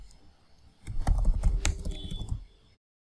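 Keys clatter on a computer keyboard as a command is typed into a terminal, a close burst of quick taps for about two seconds after a quiet start, ending in silence.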